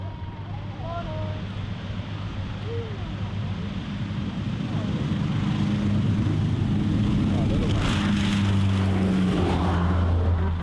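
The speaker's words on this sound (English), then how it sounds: "Stop for a plane on the road." A small propeller plane roars past close by on a road in Tonga, its engine drone swelling and growing louder over wind, with a few chirps early on.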